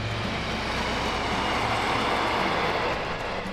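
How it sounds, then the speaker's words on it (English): A train rumbles steadily past at close range, heard from a moving narrowboat, a continuous roar of wheels on rails with a low, even hum throughout. "Oh, there's a train going past."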